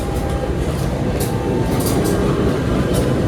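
Inside the Sri Tanjung economy train arriving at Klaten station, a loud continuous low rumble of the carriage fills the space, with faint rattles and squeaks over it and no speech.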